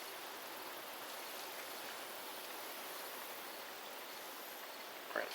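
Filthy water poured into a homemade filter of natural materials and trash: a steady, hissing, splashing stream runs continuously at moderate level, with a small knock near the end and no talk.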